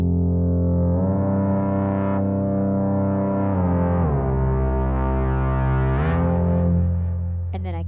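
A loud, distorted synth drone hums continuously with a long release, its sustained harmonic tone gliding and shifting in pitch, played live with music gloves in a studio.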